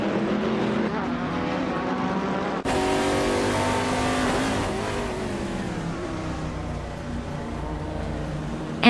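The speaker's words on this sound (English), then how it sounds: "Lian Yashin is driving a 2017 Norma M30" A 2017 Norma M30 race car howls around a track in a racing game, engine tone steady and strong with a sudden shift partway through, then continuing as it accelerates, a voice talking over it.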